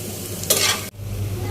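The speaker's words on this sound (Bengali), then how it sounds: "জিরা দিয়ে, রসুন কুচি, পেঁয়াজ কুচি দিয়ে একটু আমি ভেজে নিচ্ছি।" Cumin, chopped garlic and onion sizzle in a little oil as a spoon stirs them, giving one brief hissing surge of frying over a steady low background hum.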